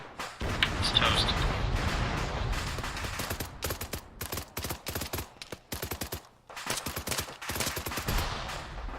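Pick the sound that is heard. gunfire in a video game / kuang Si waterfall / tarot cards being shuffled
gunfire in a video game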